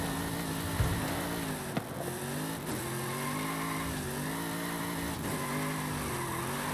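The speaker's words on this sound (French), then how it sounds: "Vous la laissez drifter toute seule" A car in Forza Horizon 5 slides through a handbrake drift, its engine holding a steady droning note with a faint tyre hiss and a couple of brief dips, continuous and moderately loud with no talk.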